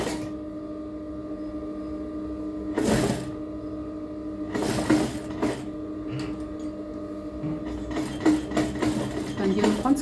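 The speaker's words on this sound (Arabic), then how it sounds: "دابا غادي نعاودو الخياطه الثانيه" A sewing machine stitches the second seam of lace pajamas, running with a steady mechanical hum and whir, close by, broken by a few louder bursts and clatter, with a voice talking now and then.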